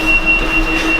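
A tram running on rails, a loud continuous rumble of wheels with a thin high squeal from the rails breaking in and out, heard from close by with no talking.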